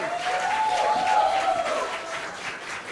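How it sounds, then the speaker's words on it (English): Audience applause for a keynote speaker at a Web3 and AI conference: scattered clapping from a seated crowd, moderately loud, with a faint voice or tone running beneath it. "So, give her a warm applause."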